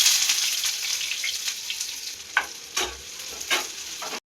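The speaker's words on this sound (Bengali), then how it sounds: "আস্তে আস্তে পেঁয়াজ দিয়ে দেবো।" Onions sizzling and frying in a pan on a home kitchen stove, steady hiss with a few louder spatters and the scrape of stirring, close and alone.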